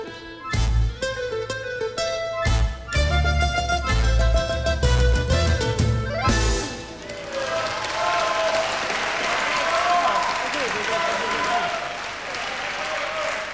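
Studio audience at the 2003 Telethon bursts into sustained applause for an orchestra, after the orchestra's music ends, a loud, dense clapping crowd filling the rest of the moment.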